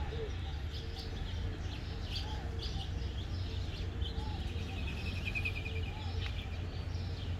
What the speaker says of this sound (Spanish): Hoy las palomas.